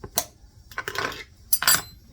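Opening a fresh can of home-canned butter in a home kitchen: a few sharp metallic clinks and scrapes at close range, spaced across a short moment with quiet gaps between them.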